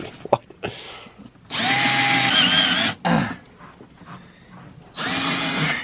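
A Black & Decker power drill whirs in three loud, close bursts with short gaps between them, while an NRG race seat is installed in a BMW E46. Brief clatter and handling noises fall between the bursts.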